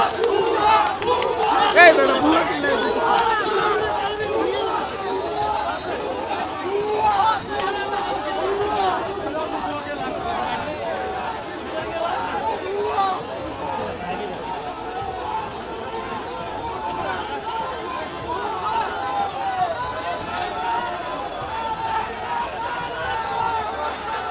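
A large crowd in Dhaka chants slogans to drive off army troops, a dense, continuous roar of shouting voices and babble that stays loud and close throughout.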